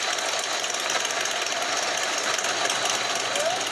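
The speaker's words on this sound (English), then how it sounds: "Engines roared outside of Copperhead Harley-Davidson this morning" Motorcycle engines rev outside a Harley-Davidson dealership during a memorial ride gathering of bikers, a dense continuous rumbling roar with knocking pulses, loud and close throughout, with no one talking.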